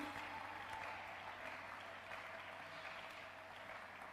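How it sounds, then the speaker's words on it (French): A church congregation clapping together, steady dense applause with a crowd feel, heard at a modest distance and continuing throughout without a break. "tobete likolo maboko"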